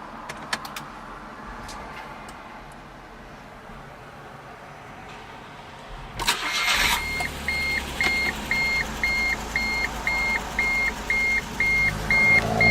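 A 2009 Smart Fortwo Passion Coupe starts with a sudden loud burst of cranking, then settles into a steady idle with a repeating chime pulsing over the engine. Quiet rustling comes before the start, and no one speaks.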